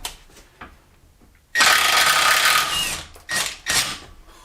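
A Harbor Freight Earthquake XT impact wrench hammers on a bolt in a long loud burst, followed by two shorter rattling bursts after a brief pause, with faint quiet sounds before it.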